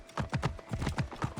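Horse hooves clip-clopping at a steady gait in Assassin's Creed Origins, a quick repeating rhythm of distinct thuds, close and fairly loud, with no voices over it.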